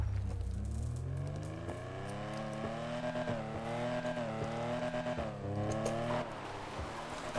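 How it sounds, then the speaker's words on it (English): Exhaust of a Mercedes-Benz 300 SL Gullwing in the video game GTA Online, a loud, continuous engine drone rising and falling in pitch as the car accelerates and shifts, with occasional crackles and tire squeal. "Also, I like the exhaust on this thing."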